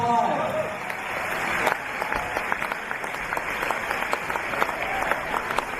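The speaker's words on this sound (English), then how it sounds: "Round of applause for our All-Star 5." A basketball crowd applauds the All-Star Five at a women's grand final awards presentation, steady clapping in a large hall that continues after a brief announcer's voice at the start.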